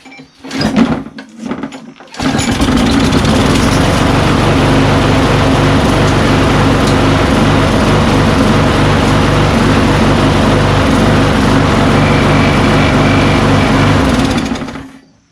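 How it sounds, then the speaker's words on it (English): A Craftsman YS4500 lawn tractor engine sputters briefly, then catches and runs loud and steady with a rattling, vibrating, buzzing drone for over ten seconds before cutting off. "So this engine works and everything, and as you saw, it vibrated a little bit"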